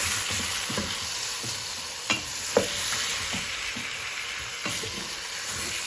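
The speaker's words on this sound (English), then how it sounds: "give your oxtail a stir" Jamaican oxtail being stirred in a pot, a continuous sizzle with repeated scraping spoon strokes and a couple of sharper knocks against the pot, close and with no one talking.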